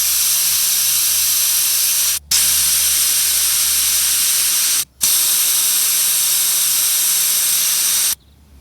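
Air hisses loudly and steadily out of a tire valve stem with its core removed, broken by three brief pauses where the flow is cut off before resuming.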